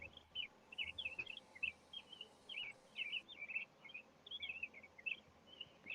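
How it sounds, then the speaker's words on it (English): Birds sing outdoors in a continuous run of high, quick chirps and twittering phrases, soft and steady over a quiet background. "the birds are singing so pretty"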